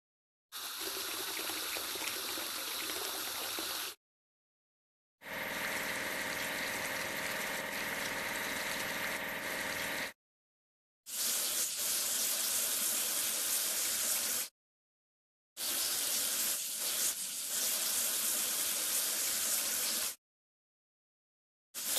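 Water sprays in four separate bursts during a vehicle wash in a children's video game, each several seconds long with a steady hissing rush and brief silences between them.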